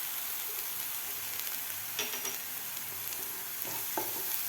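Green masala paste with a pinch of turmeric is sautéed on a medium flame for a cluster bean and potato dish. A soft, even sizzle hisses continuously, with a few faint spatula scrapes and taps, quiet and unaccompanied by speech.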